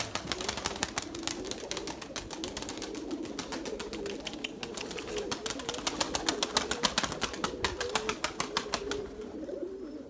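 Purebred Erzurum white pigeons coo in low, rolling calls that repeat throughout, close by, with a busy stream of wing flaps and clatter mixed in.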